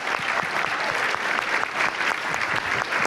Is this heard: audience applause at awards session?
yes